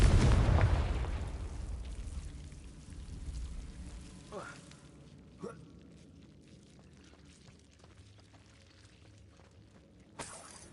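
A Confringo blasting spell goes off in Hogwarts Legacy, a loud booming explosion up front that decays into a rumbling tail, followed by a few smaller pops and crackles and a sharp burst near the end.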